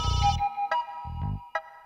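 A phone rings with a bright electronic ringtone, short repeated tonal bursts at close range, with no voices over it.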